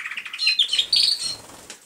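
An American Singer canary sings a bright, rapid series of high chirps and trills, close and clear, with a brief flutter of wings partway through.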